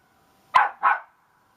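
A dog gives two short, sharp barks in quick succession, close and fairly clear, with silence around them.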